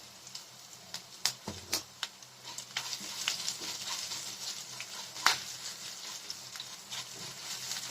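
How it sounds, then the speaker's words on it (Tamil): Curry leaves, chopped green chillies and asafoetida sauté in a pan for spicy rice-flour kozhukattai, a steady soft sizzle broken by sharp crackles and pops from the leaves, close and fairly quiet with no talking. "கொஞ்சம் கருவேப்பிலை எல்லாம் சேர்த்து வதக்கிக்கலாம்."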